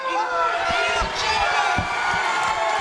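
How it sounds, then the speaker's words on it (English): Crowd at a fight event cheering and shouting as the bout is stopped on a cut, loud sustained roar with whoops and a few sharp thuds underneath. "You can hear the crowd going crazy."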